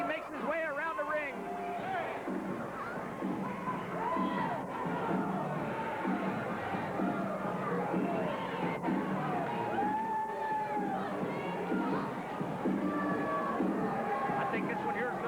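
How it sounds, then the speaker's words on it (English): A wrestling arena crowd cheers and roars continuously as Tom Brandi, billed as the Chippendale, makes his way around the ring, a dense steady wall of shouting and whoops with voices mixed throughout. "The crowd seems to like him as he makes his way around the ring."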